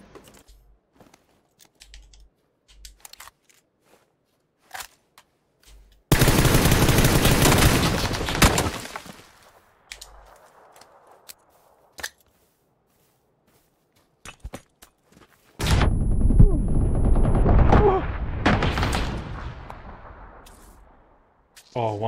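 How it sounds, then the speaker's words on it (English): Gunfire in the game PUBG on PS4 comes in two long, loud bursts of rapid shots, separated by quiet stretches with sparse faint clicks and taps. "He's shooting the tree."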